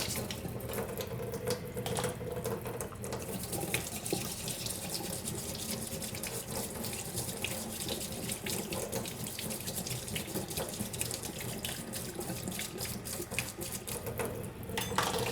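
Warm tap water streams steadily into a kitchen sink as a plate smeared with ketchup is rinsed, a continuous close wash of running water with faint clinks of dishware.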